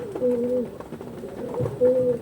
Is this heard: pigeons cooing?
yes